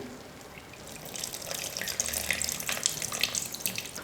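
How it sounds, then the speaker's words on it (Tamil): Tamarind extract is poured into simmering oily brinjal gravy, a soft liquid stream and splashing that starts quietly then grows fuller and trickles on, close and alone without talking. "கரைச்சி வச்சுருந்த புளியை வந்து இப்போ நான் சேர்த்துக்கிறேன்."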